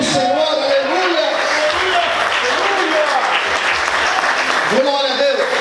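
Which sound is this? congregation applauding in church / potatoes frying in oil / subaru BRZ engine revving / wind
congregation applauding in church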